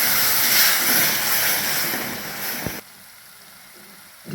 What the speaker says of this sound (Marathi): त्याच्यामध्ये आपण थोडंसं पाणी ऍड करूया.